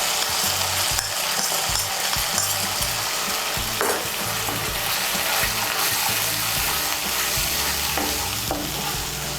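Spice paste of turmeric, cumin and Kashmiri chilli hits a hot pan and sizzles steadily and loudly up close, with scraping stirs breaking through the continuous frying hiss throughout.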